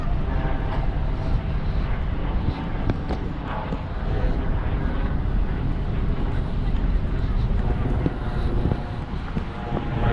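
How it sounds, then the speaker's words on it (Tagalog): At Niagara Falls, a patrolling helicopter produces a steady, broad rumble mixed with wind buffeting the microphone, continuous and moderately loud in an open outdoor tourist setting. "Tapos may mga nagro-rondang helicopter dito."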